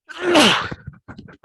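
A single loud sneeze bursts out up close, followed by a few faint sniffs and breaths.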